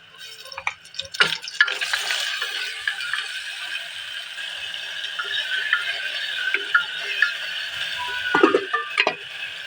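Goat meat frying in a pan with ginger-garlic paste, stirred steadily: a continuous sizzle with scraping spoon strokes and occasional clinks, close and fairly loud.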